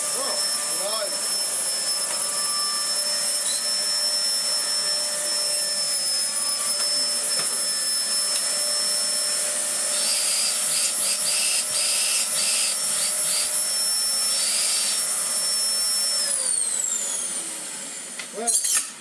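An old Dyson DC04 upright vacuum cleaner runs steadily with a high whine and airy roar, close and continuous, with brief varying bursts near the end.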